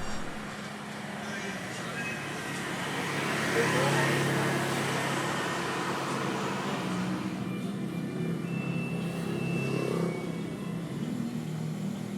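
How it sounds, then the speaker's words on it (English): Cars and motorbikes pass along a quiet street in the beach town of Mui Ne, Vietnam, a steady traffic rumble that swells as a vehicle goes by mid-way, with a voice talking over it. "you still see some cars and motorbikes going by"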